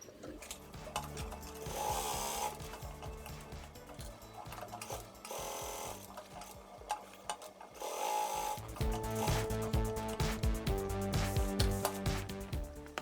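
A sewing machine stitching both ends of outer fabric for a small bag, running in bursts of rapid mechanical clatter with brief pauses, then a louder, busier run near the end.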